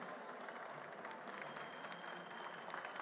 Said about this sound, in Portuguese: eu peço uma salva de palmas para todos nós